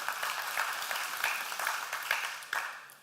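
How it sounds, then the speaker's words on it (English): Church congregation at a Sunday service claps in a moderate, uneven round, individual claps standing out here and there, fairly steady and unaccompanied by talk. "you can clap for that."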